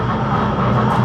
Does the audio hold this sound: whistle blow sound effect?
no